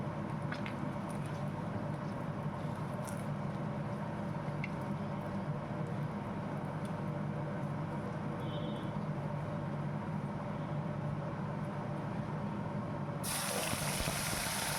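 Ground spice paste sizzling in hot oil in a pan for a Bengali tel koi fish curry, giving a steady, dense hiss that runs throughout and brightens sharply in the final second.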